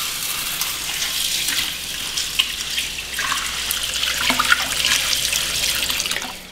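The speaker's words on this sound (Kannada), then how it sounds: "ಹಾಗಾಗಿ ಇವತ್ತು ಈ ಹೆಸರು ಬೇಳೆ ಯೂಸ್ ಮಾಡಿದ್ದೀನಿ. ಇದನ್ನು ಚೆನ್ನಾಗಿ ಒಂದು 3 ಸಲ ತೊಳ್ಕೊಂಬಿಡೋಣ." Running water pours over moong dal and rice being washed in a bowl, a continuous splashing rush with small swirling surges and no speech.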